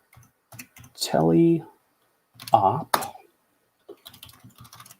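Short bursts of light clicking keystrokes on a computer keyboard, typing terminal commands, come before and after someone speaking in between.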